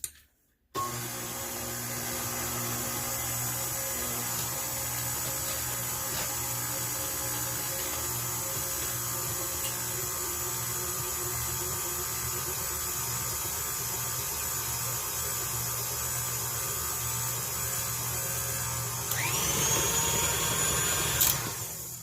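Electric mixer with a paddle beating blueberry coffee cake batter: a steady, close motor whir that starts abruptly after a short silence and holds evenly. It grows louder and harsher near the end.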